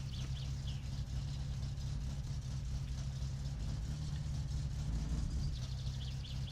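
A car engine in My Summer Car, running with something slightly off, holds a steady low idling rumble at moderate level, close and continuous, with faint higher hiss over it.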